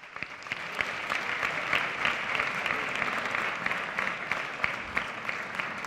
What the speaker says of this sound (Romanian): Să-l aplaudăm pe domnul Constantin Tescu.